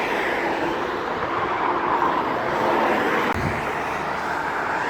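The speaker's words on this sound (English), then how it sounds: "get out of this noisy traffic" Steady road traffic roars near St. Johns Bridge, a continuous loud wash of passing vehicles with a faint thump near the end.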